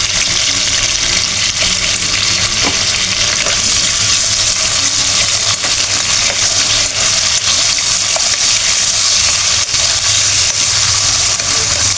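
Chopped onion hits hot oil while chitol fish cooks, giving a loud, steady close sizzle and crackle that runs unbroken throughout without talk.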